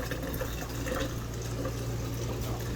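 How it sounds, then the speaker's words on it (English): Water runs steadily from an RV sink faucet fed by the onboard water pump, a continuous rushing flow with a low pump hum underneath. "That's water supply from your water pump."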